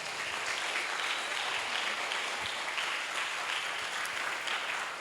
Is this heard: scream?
no